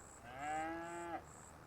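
A single drawn-out cow moo from Farming Simulator 25, a steady mid-pitched bellow lasting about a second over quiet game ambience with faint repeating tones in the background.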